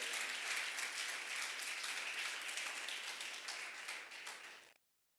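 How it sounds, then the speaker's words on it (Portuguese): A church congregation applauds loudly, a dense, steady wash of clapping that holds for nearly five seconds before cutting off abruptly. "Você pode aplaudir o Senhor bem forte"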